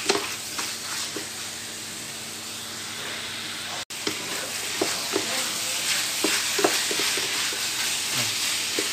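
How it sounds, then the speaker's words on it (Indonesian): Food stirred while frying in a pan, a constant hiss of sizzling oil with repeated scrapes and taps of the utensil, one brief cut partway, and no talk. "Aduk rata."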